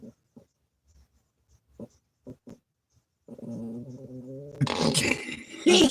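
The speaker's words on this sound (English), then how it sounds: "He isn't sure if he needs to be growling or not" A dog makes low, uncertain growling and snorting sounds, starting with a few short, quiet grunts and breaths, then building into a longer rumbling growl that ends in a louder, rougher burst.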